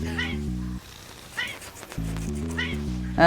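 A house cat gives several short meows in quick succession. The calls are close and moderately loud, with brief pauses between them and a final louder cry at the end.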